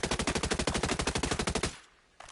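Rapid automatic rifle fire in Ghost Recon Breakpoint, a steady burst of about twenty evenly spaced close shots that stops sharply, leaving a brief quiet gap before a faint click.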